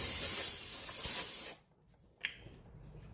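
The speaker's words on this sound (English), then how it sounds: "I spray it with brake cleaner at this point just to remove that grease film" An aerosol can of brake cleaner sprays in a loud close hiss for about a second and a half onto a Porsche 986 rear brake, then stops, followed by a brief short spurt.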